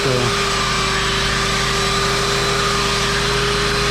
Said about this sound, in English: what I'm looking for when I'm sanding it is just even sand marks